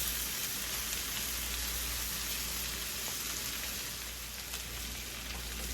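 Garlic butter shrimp sizzles steadily in a pan, a continuous hissing, crackling fry with no pauses, close and even throughout.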